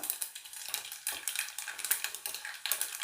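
Mustard seeds and cumin fry in hot oil after peanuts, giving a busy crackling sizzle with small pops and a few scrapes of a spoon in the pan.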